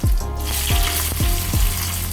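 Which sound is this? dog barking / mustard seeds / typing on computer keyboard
mustard seeds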